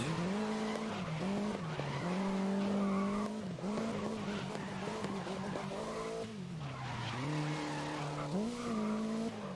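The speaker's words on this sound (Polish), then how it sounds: "odgłos tych silników jest taki, jakby byli zaraz za mną" Race car engines from Grid 2019 drone and rise in pitch together at high revs, with tires skidding and squealing through corners; loud, continuous, near mix of several cars.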